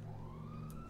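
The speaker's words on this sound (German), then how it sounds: "Sirenen, jetzt geht's los." Police siren in GTA V, a steady wailing tone under a low engine drone, faint and continuous throughout the short stretch.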